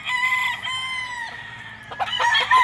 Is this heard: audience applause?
no